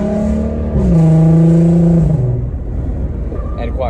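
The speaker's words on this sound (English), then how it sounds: "Very 350Z sounding exhaust, which I don't really want" A Volkswagen Golf R engine revs with a raspy, droning exhaust note that climbs and then settles lower, loud and close, with a faint voice near the end.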